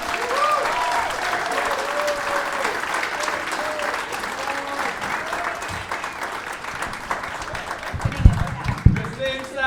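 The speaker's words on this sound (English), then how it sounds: "Christine Salvador, everybody give a round of applause." Comedy club audience claps steadily in a sustained round of applause after a stand-up set, with a voice talking over it throughout and louder bursts of cheering near the end.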